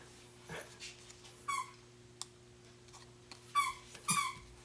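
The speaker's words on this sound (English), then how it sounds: "You can hear my dog in the background playing with the toy." A pet dog plays with a toy in the background of a quiet room, making a few brief squeaky whimpers and yips spread across a few seconds, faint and with no talking.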